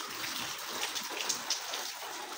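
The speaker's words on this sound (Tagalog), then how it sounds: "Baka hanggang mamaya pa yun yung ulan natin guys" Steady rain falling outdoors under an overcast sky, a continuous soft hiss with faint scattered drips, no talking.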